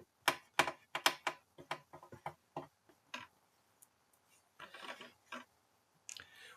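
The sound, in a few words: unscrewing screws from a 1966 Batmobile model part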